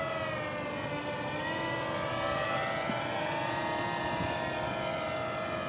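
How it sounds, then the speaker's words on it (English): Walkera Furious 320 quadcopter drone hovering in GPS hold, a loud, steady high-pitched whine of its motors and propellers running continuously with no voices. "And now I've removed my hand and the drone is holding at that position."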